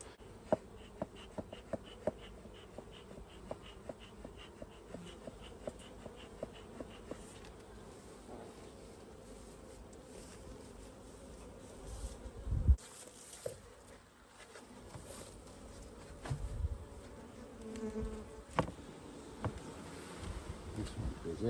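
Autumn bees buzz busily around a hive, a soft continuous drone with individual insects passing close by, punctuated by small taps and knocks, and a few quiet background sounds, with no one speaking.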